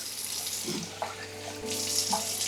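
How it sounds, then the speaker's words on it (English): Rice is rinsed under a running tap, a steady close rush of water into a bowl with light splashing and swishing as the grains are stirred. There is no talk. "you want to rinse this, and you want to rinse it until it's no longer cloudy"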